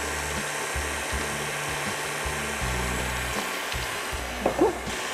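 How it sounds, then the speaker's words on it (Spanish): An electric mixer whirs steadily, beating cake batter with two eggs and a teaspoon of vanilla for a golden pineapple upside-down cake, the motor drone holding a constant level with slight pitch shifts and a faint clink near the end. "Continuamos batiendo"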